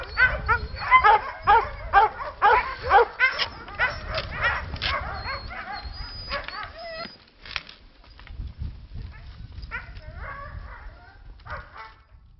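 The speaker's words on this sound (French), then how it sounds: "Une cinquantaine de chiens." A musher's yard of about fifty sled dogs in winter, a chorus of close, loud barks, yips and whimpers overlapping in bursts, thinning out midway and then picking up again toward the end.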